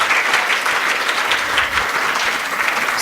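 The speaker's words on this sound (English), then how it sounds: "Please, a loud round of applause for this." A large audience at a school class presentation applauds loudly and steadily, dense clapping sustained throughout without a break.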